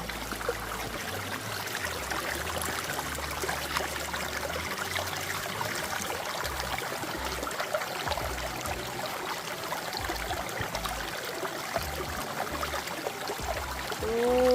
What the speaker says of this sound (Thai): น้ำใสไหลเย็นนู่